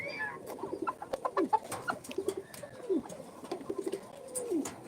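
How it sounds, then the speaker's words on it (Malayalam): Pigeons coo in soft, repeated murmurs, mixed with scattered clucks and other bird calls from a busy flock nearby, and no talking. "നല്ല ക്യൂട്ട് പ്രാവ് ക്യൂട്ട് ക്യൂട്ട് ക്യൂട്ട്"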